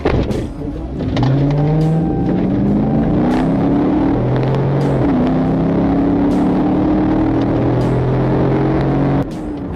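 A Nissan car flees a police stop at speed, its engine revving loudly and rising through gears in repeated climbing pulls, with a steady roar of road and wind noise throughout.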